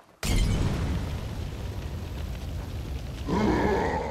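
An incendiary device in the video game State of Decay bursts with a sudden loud blast, then roars into a sustained, dense burning rush. The sound swells again near the end, heard alone.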